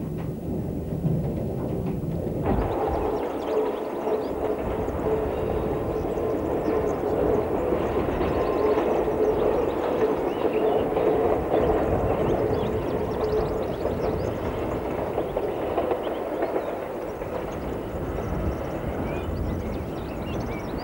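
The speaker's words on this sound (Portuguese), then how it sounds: "Somente o som do deslizar do comboio nos carris" A train glides along rails past chestnut and mimosa trees on the Bragança line, a steady low rumble that swells and holds, continuous and fairly near, with no voices.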